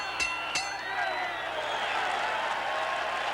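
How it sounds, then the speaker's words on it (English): Arena crowd applauding and cheering a 23-year-old welterweight from Pico Rivera, California, after his bout with Roberto Duran, a steady wash of clapping and crowd noise with a couple of sharp impacts near the start. "They're applauding the 23-year-old welterweight from Pico Rivera, California."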